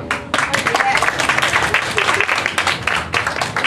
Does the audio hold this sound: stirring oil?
no